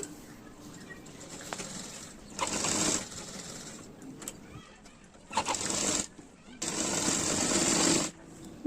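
While a nighty is being sewn, three short bursts of sewing machine whirring are heard close up, with quieter room noise and handling sounds between them.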